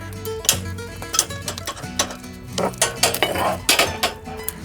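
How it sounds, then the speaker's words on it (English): Hot coals being shifted in a live-fire grill for cooking picanha, giving repeated close clinks and scraping knocks in uneven bursts, several sharp metallic hits standing out over a low background rumble. "Now, we're gonna move some coals."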